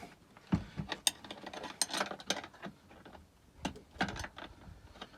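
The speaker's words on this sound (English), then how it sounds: "We'll go ahead and loosen up our positive cable." A wrench loosening the positive battery cable nut on a boat's battery bank, a run of quick metallic ratcheting clicks and taps in short bursts, close and moderately loud, with no talk.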